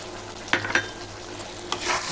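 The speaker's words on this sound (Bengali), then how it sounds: "ভালো করে ফ্রাই করে নিই।" Garlic pickle with grated green mango, chopped green chillies and a spoonful of sugar frying in a pan, a soft steady sizzle with a few stirring scrapes of a spoon, quiet and close.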